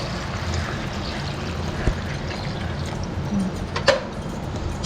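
Water poured into mutton curry in a pressure cooker in a village kitchen, a faint continuous stream under steady background noise with a few small knocks.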